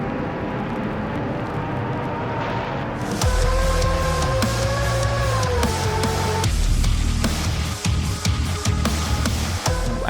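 A weird, dense screeching drone from Everywhere at the End of Time, starting as a hazy wash and then swelling into a louder grinding roar with sliding, wavering tones, continuous and without talk.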